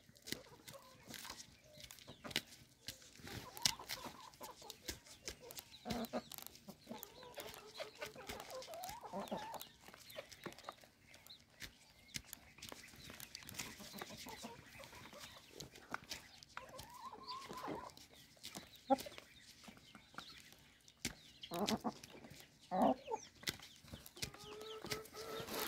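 Chickens cluck softly on a rural property, with scattered clucks and low rustling and a wing flap or two, faint and continuous throughout.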